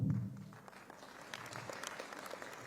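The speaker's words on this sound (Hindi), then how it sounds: "तालियों के साथ बहुत जोरदार स्वागत कीजिएगा" An audience claps at an award ceremony honouring students and their parents, a faint scattered patter of hands from a crowd at a distance, with no talking over it.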